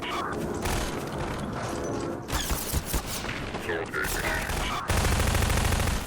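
Rapid gunfire bursts from a shooter in the video game ChasmVille, with crackling shots and booms filling the clip densely and loudly while a person talks over the action.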